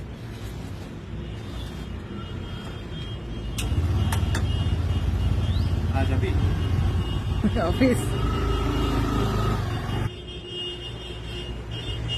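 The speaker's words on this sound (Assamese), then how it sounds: "চিলিণ্ডাৰৰ গাড়ী আহিছে, বহুত আৱাজ হৈ আছে" A gas cylinder delivery truck arrives with a loud, steady engine rumble that swells midway and holds for several seconds, with clanks and brief knocks on top and someone talking over it.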